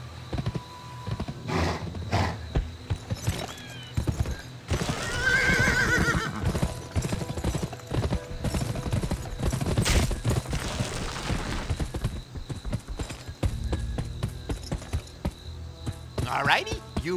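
A horse in the video game Gun neighs loudly and clip-clops with hooves over a busy game soundscape, with a drawn-out whinny early on and steady hoofbeats, while a voice talks over it.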